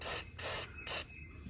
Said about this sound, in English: Hit it with some spray.